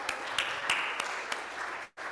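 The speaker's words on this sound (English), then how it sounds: "Let's give her a round of applause." Audience at a Rotary Club meeting gives a short burst of scattered applause, moderately loud, ending abruptly after about two seconds.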